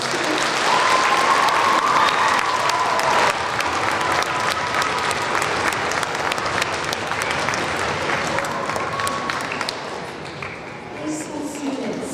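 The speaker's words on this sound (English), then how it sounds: "Let's hear a round of applause" Audience applause at a middle school fall orchestra concert, a full sustained round of clapping from a large seated crowd that carries on steadily, with faint voices mixed in, before thinning out at the end.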